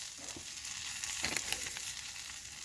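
Beef masala with turmeric powder sautéing on low flame for a beef roast, a steady soft sizzle and frying hiss with faint stirring, close and continuous with no talk.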